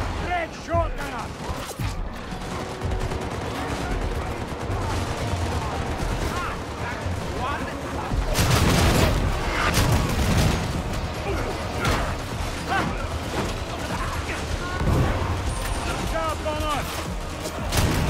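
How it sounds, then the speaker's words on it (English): Rapid bursts of gunfire, bolter shots and clanking weapon mechanisms fill a Warhammer 40,000: Darktide fight, with heavier booming volleys midway and game voices shouting over the chaos. "Enemy sighted! Great shot, Gunnar!"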